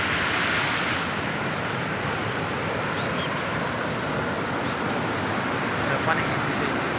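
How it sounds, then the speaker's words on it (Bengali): A river near Hetauda, Nepal, rushes past in a continuous, dense roar of water that stays loud and steady throughout. "পানি আওয়াজ তোমার শোনো"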